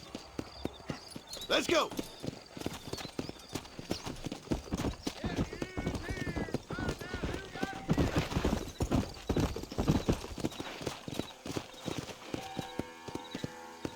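Horse hooves clip-clopping at a steady trot in Red Dead Redemption, loud and rhythmic throughout with a whinny early on, under game dialogue and someone speaking.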